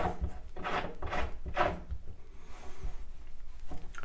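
A new eccentric fitting being screwed by hand into a shower valve, giving close, soft scraping and rubbing sounds of metal threads with a few bursts of friction, no voices.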